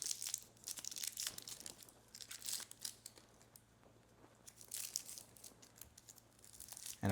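Protective plastic wrapping peeled off a Hot Toys Black Widow Artisan collectible figure crinkles and tears in irregular bursts, close and fairly quiet, with brief pauses between rustles.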